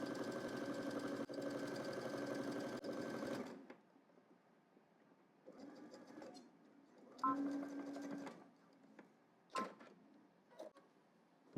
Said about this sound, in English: So then we're going to head to the machine. We're going to stitch both sides down here using 5/8 of an inch seam allowance.